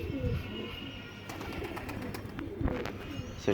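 Pigeons kept on a rooftop coo softly, a few low throaty calls close by over faint background noise.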